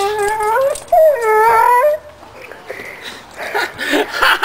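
A young dog whimpers and cries in high, wavering whines, two drawn-out bursts up close, followed by quieter rustling and small yips.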